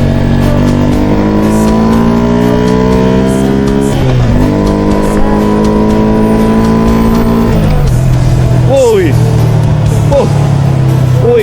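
A motorcycle fitted with an LCV8 exhaust revs loudly and close by, the engine note climbing and dropping through several throttle blips, with a shout over it near the end.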